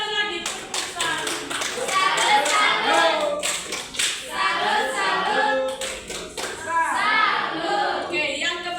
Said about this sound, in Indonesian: Tepuk salut lagi. Tepuk salut.